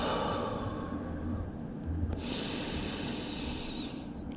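Slow yoga breathing in child's pose, a soft airy inhale followed by a longer, louder hissing exhale, close to the microphone, with no talking.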